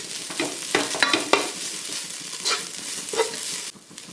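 Grated coconut dry-roasting over a medium flame in a hot pan for chicken kappa biryani, with steady frying crackle and repeated scraping stir strokes close by; no talking.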